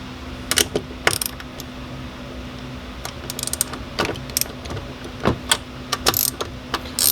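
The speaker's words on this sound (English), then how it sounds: "now we're going to grab our ratchet to pull off these 4 bolts" A hand ratchet loosens the four 13 mm bolts holding the side mirror on a 2019 Chevrolet Silverado, giving scattered bursts of sharp metallic clicking, close by and moderately loud, with short pauses between runs.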